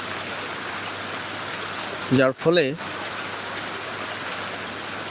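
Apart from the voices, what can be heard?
rain falling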